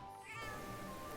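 A cat meows in the Monster Hunter Online video game, a clear in-game cat call lasting about a second and standing alone with no talk over it.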